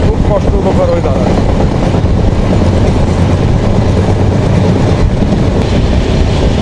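A passenger train on the Dhaka to Faridpur line over the Padma Bridge rolls past Nimtala railway station in Bangladesh with a loud, continuous rumble and heavy wind buffeting from the open door.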